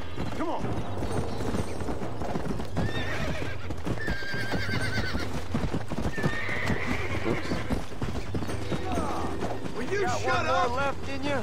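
Hooves clip-clop in a fast, steady gallop while a horse whinnies repeatedly in the video game Red Dead Redemption, with a voice speaking over the busy game soundscape.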